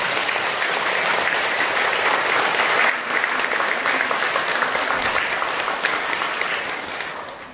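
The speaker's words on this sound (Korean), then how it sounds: "우리 다시 한번 박수 한번" A congregation at a Buddhist Sunday service in a temple lobby breaks into sustained, loud applause that fills the room, continuous for several seconds and tapering slightly at the end, with little talk.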